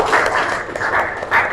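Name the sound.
class applause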